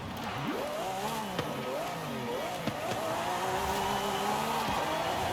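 A Lamborghini Countach's mid-mounted engine in the video game Forza Horizon 5 revs and drones steadily, its pitch climbing and falling through several surges, with a couple of sharp clicks along the way.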